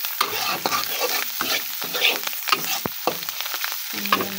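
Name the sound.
frying and stirring coriander leaves in a pan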